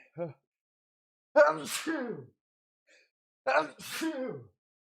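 Two loud sneezes close up, each with a sharp intake and burst, a brief vocal sound just before them.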